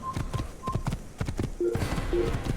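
Horse hooves clip-clop in a quick galloping rhythm on hard ground in the Assassin's Creed video game, a run of close, distinct impacts with a brief lower tone partway through and no talking.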